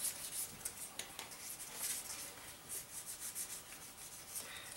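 600 grit sandpaper rubs against the edge of an acrylic guitar pickguard, forming a radius in quick, repetitive scratchy strokes; quiet and close, with no talking.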